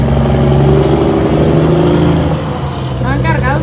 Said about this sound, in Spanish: ese trailer que va cargado de melón